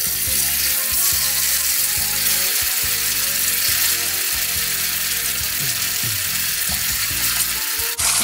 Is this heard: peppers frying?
yes